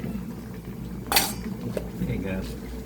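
A spoon stirring oyster dish in a cooking pot, with a sharp metallic clink against the pot and soft scraping, under nearby conversation.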